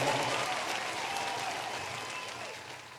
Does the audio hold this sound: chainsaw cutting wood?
no